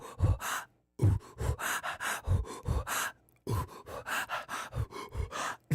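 A singer imitates the fast, sharp breathing-in gasps from a song, delivered in rapid rhythmic bursts of loud, close inhalations separated by brief pauses.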